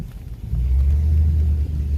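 Steady low engine rumble heard from inside a pickup truck while riding, building up after a brief quieter start and staying loud and even, with no talking.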